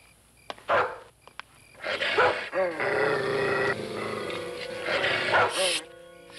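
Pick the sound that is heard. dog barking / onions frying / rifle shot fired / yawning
dog barking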